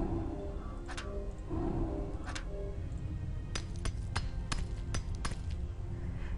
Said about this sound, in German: wir benutzen den schweren Knauf als Hammer